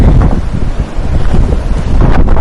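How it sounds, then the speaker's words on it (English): Gale-force wind in Port Lincoln National Park roaring against the microphone, a loud constant buffeting rumble with gusts swelling and easing, no voices. "it's blowing a gale"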